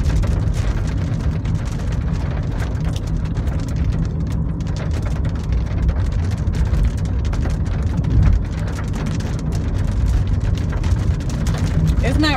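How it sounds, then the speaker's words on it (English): Steady, dense rain falls throughout, a constant hiss with a low rumble underneath, close and fairly loud. "It's raining too much for my curls"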